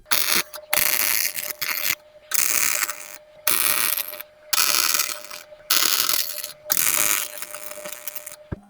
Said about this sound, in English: get our mask on and try and weld it